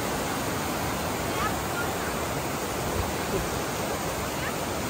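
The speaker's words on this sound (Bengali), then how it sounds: "কি তীব্র গতিতে পুরো একদম জল বয়ে যাচ্ছে" Fast-flowing water rushes through Dashbashi canyon in Georgia, a loud, steady, broadband roar that continues without pause.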